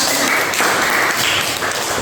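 Classroom applause from a group of students, dense steady clapping that fills the whole moment at an even loudness, with no pauses or talk over it.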